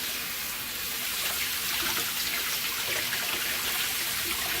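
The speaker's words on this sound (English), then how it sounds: "we're going to use water because it's faster than doing it with air" Water runs onto a metal part in a steady, continuous splash and trickle. It stays fairly loud and close throughout, with no voices.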